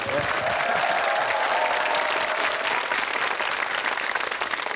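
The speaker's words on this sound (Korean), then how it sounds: "자, 박수." A studio audience applauds in a dense, steady stream of clapping at an armed forces nursing academy television event, just before two women sing.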